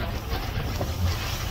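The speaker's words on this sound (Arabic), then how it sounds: "البابور يتحرك" A boat moving across open water near the Frioul islands off Marseille, with steady low engine and water rumble mixed with strong wind buffeting the microphone throughout.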